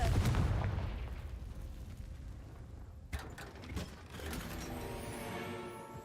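In Hogwarts Legacy, a Confringo spell bursts with a loud low blast at the very start, then fades into a rumbling decay, followed by sharp crackling and clanking debris.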